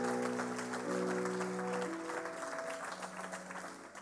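A church congregation claps and cheers in praise of God at a French-language sermon, sustained close applause over steady sustained keyboard chords throughout.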